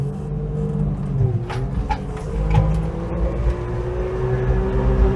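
A 1979 Suzuki Jimny two-stroke 4x4 crawls slowly in low-range four-wheel drive, its buzzy engine droning low and steady at close range with slight rises in pitch, while road noise runs beneath.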